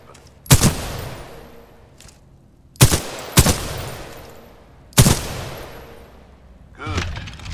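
Weapon fire at target practice in Titanfall 2: four sharp, loud gunshots ring out, two of them close together, each with a short decaying tail, followed by a softer mechanical clatter at the end.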